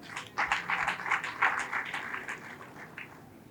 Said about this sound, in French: la SODAV que je vous invite vraiment à applaudir